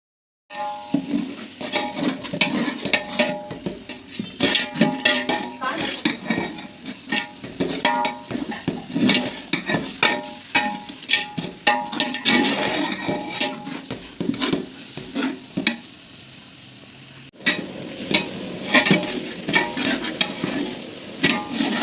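Biryani masala, tomato and yogurt being stirred and sautéed in a large pot for a 3 kg chicken biryani, with continuous close scraping and clattering of a ladle over a steady sizzle, no voices.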